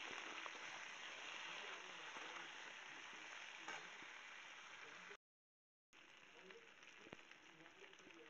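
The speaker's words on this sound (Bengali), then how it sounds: "এবার আলুগুলো আমি নেড়ে নেড়ে ভাজা করে নেব।" Potatoes seasoned with turmeric and salt sizzle steadily in a pan while being stirred, a close, continuous frying hiss broken by a brief dropout.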